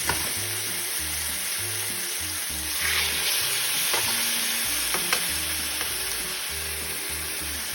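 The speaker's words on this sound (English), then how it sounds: "It's only sizzling like that because of the fluid that it still has around it." Steady, loud sizzling of chicken frying in a pan, a constant crackling hiss with occasional scraping and stirring sounds, no talking.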